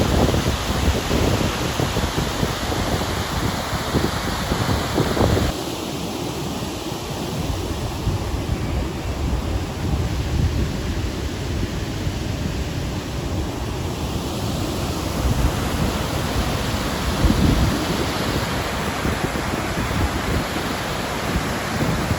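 Floodwater rushing at high speed along the swollen Ravi river, heard from the main bridge near Head Balloki: a steady, loud, broadband roar with wind buffeting the microphone, continuous throughout with no voices.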